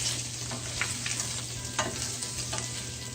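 Spiced ground beef sizzles in a frying pan while a spoon stirs it, giving several scraping strokes over a constant frying hiss, with no voices.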